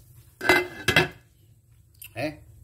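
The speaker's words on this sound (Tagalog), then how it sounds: "Atin po siyang takpan para maluto ng ito." A lid is set onto a pan holding a pizza omelette, giving two close, sharp metallic clatters in quick succession, followed by quiet and a brief voice.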